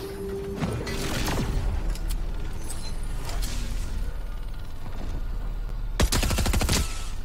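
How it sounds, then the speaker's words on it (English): Pistol gunfire rings out in the video game Fortnite: scattered sharp shots, then a quick rapid burst near the end, over a constant game background. "Patrick, the pistols are overpowered then."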